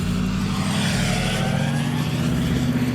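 Diesel truck with a 4-inch downpipe-back straight pipe exhaust idling or cruising, a loud, steady low rumbling drone with a deep throaty burble, close and constant throughout.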